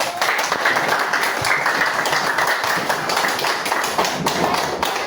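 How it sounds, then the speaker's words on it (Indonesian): Classroom applause for a student group in a Grade 7 lesson, steady close clapping with some table taps and thumps mixed in, continuing evenly throughout. "Ayo beri tepuk tangan untuk kelompok 1."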